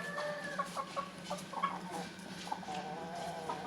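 Breeding hens cluck in short, repeated bursts nearby, with a steady low background hum and no talking.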